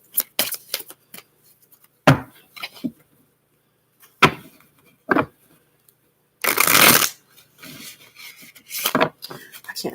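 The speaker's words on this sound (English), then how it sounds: "I can't shuffle these cards right." Playing cards are riffled and snapped together in several quick bursts, with a longer ruffling shuffle in the middle and brief pauses between.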